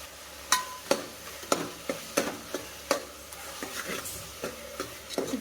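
Tomatoes sautéing with salt in a pan for biryani, a soft sizzle under a run of sharp, fairly regular spatula scrapes and taps against the vessel, about a dozen strokes, close and clear.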